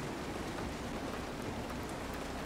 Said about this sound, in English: That's why I'm out here in the rain and not in my cab.